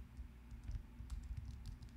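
Quick, light keystrokes on a computer keyboard, a short irregular burst of typing heard close and faint with no talk.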